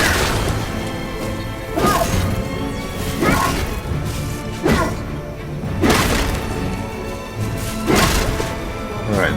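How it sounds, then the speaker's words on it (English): Tombstones smashed in the video game MediEvil Remastered give repeated crunching, thudding impacts with swishing swings, about six hits spaced irregularly over a busy game soundscape. "I will keep on smashing them tombstones"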